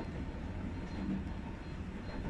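Steady low rumble inside a moving Asunarou Railway narrow-gauge train carriage near Yokkaichi, a continuous droning roll of wheels and motor with no voices.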